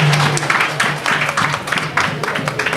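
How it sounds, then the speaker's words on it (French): An audience claps at a business knowledge-sharing talk in Guinea. The clapping is loud and close, with a rough, bursting rhythm, and a low hum runs under it. "Applaudissez pour vous, merci."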